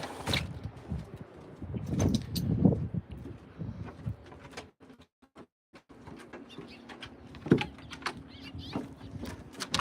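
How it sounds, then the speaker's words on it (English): Birds call outdoors on a sunny day in a grassy yard with trees, including cooing dove-like notes, scattered and moderately close, with light rustling and patter around them. "You can hear the birds singing."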